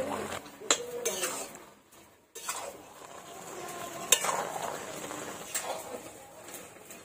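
Ash gourd curry with cumin powder and sugar is stirred in a pan in village style, with soft scraping and a low sizzle, close and quiet, and a pause partway through.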